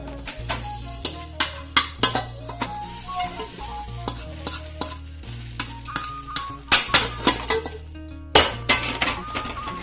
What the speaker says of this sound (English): We'll give it a stir quickly.